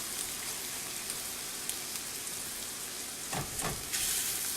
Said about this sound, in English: it really chops the hamburger up nice, especially like for sloppy joes